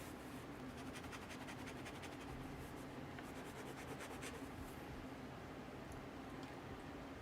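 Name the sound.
pen nib rubbing on paper while drawing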